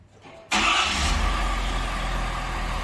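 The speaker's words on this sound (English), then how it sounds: "we got a 2022 Ford F550 in for a Viper two-way remote start" A 2022 Ford F550 Super Duty fires up by Viper two-way remote start: quiet for half a second, then a sudden catch into a loud, close engine roar that settles into a steady idle.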